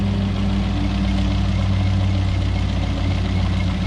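A 1952 MG TD five-speed car idles steadily and loudly nearby, a continuous low, even engine rumble with no talk over it.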